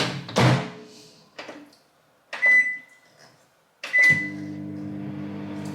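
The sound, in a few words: microwave oven heating lunch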